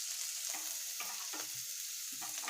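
Chopped onion sizzling and frying in a pan for homemade hotel-style veg manchurian, a steady hiss with several soft stirring scrapes spaced through it, fairly faint and with no voices.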